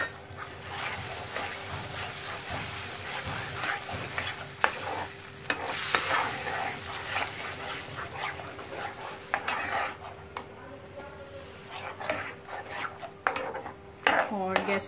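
Chopped cashews and almonds are stirred into caramel in a pan on a gas flame, giving a steady scraping stir under a soft sizzle with a few utensil clinks, fairly close and with no talk.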